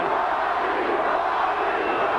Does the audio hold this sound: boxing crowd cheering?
yes